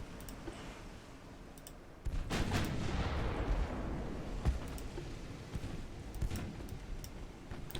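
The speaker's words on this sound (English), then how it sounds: "Let's get our big guns on the big ship now. He turned easily from that. Get our secondaries firing on this light cruiser." Naval guns fire in the warship game Ultimate Admiral: Dreadnoughts, a heavy booming blast at about two seconds followed by sustained rumbling and scattered sharper reports, set against steady battle ambience.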